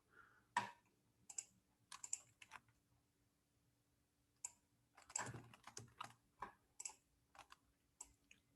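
Keystrokes on a computer keyboard while coding a web component, quiet and close, coming in irregular bursts of clicks with short pauses between them and no talk.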